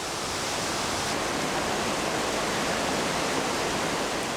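Stream water flows constantly beside a tropical rainforest creek bank, a dense, even rushing hiss that stays loud and unbroken throughout, with no talking.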